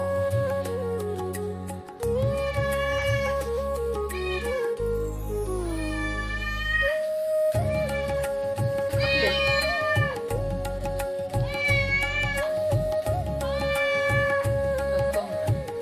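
Kittens meow repeatedly in short, high, wavering cries, close by, over a steady low hum.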